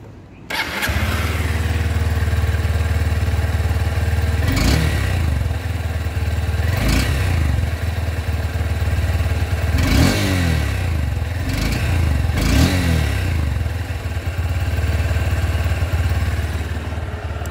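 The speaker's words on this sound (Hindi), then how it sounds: "let us listen to the exhaust note of this bike" A Honda Hornet 2.0 motorcycle engine starts and idles with a deep, steady rumble, broken by several sharp revs that rise and fall, close up.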